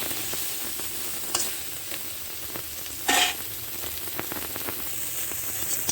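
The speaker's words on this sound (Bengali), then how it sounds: "এই দেখুন এইভাবে ভালোভাবে ভেজে নেব।" Food coated with turmeric and salt fries in a generous amount of oil, giving a steady close sizzle with scattered crackles and a brief louder spatter midway, with no talk.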